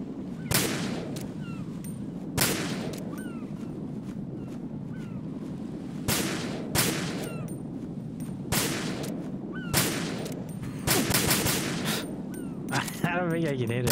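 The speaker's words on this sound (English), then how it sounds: "I'm not comfortable shooting that thing with the pistol." Pistol shots ring out in the video game Metal Gear Solid 2: loud single cracks at uneven intervals, about a dozen in all, over a low rumbling game backdrop.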